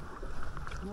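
Oars working a rowboat on a river amid autumn scenery, with steady water swishes and soft splashes under wind noise across about a second.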